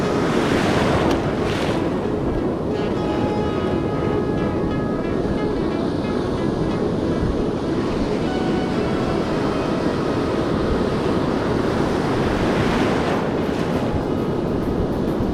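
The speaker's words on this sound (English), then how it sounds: "the waves are breaking pretty close" Choppy surf breaking close to shore, a constant loud roaring wash of waves with heavy wind buffeting the microphone and a few louder crashing surges, with no talk.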